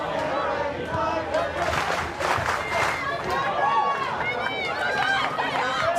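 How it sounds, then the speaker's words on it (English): Stadium crowd at a women's A-League football match between Canberra United and Melbourne City, a loud sustained roar of cheering that holds steady throughout, with a commentator talking over it. "The crowd loving it."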